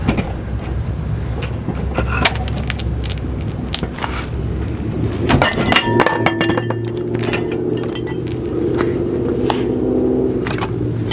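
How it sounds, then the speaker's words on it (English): Loose metal pieces from a broken car brake drum clink and rattle together in a garage, a dense run of close metallic knocks and jingles with a steady low hum underneath. "Oh, brake drum broke."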